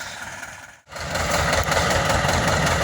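A small tractor engine runs loudly and steadily in a field while harrowing weeds, cutting out briefly before resuming a strong, continuous drone.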